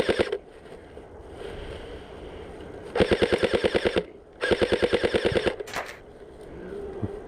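Airsoft guns fire two rapid bursts of repeated shots during an outdoor game, each burst about a second long, loud and close, with quieter ambient noise between them.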